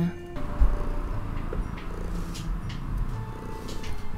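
A cat purring up close, a soft steady rumble sitting low under faint room noise, with a few small bumps and rustles along the way.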